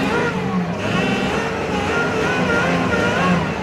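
An old Buick engine idles steadily and loudly at close range, with a faint high whine running over the continuous rumble.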